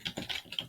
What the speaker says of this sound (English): By the way, Chris, ASMR on the typing is great.